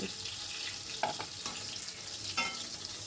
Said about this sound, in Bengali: অনবরত নাড়াচাড়া করে মাছগুলোকে আমি সুন্দর করে ভেজে নিচ্ছি